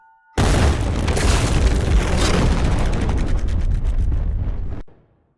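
A loud, sustained Blue Zone explosion sound effect roars in after a brief quiet start, rumbling heavily for several seconds before cutting off abruptly.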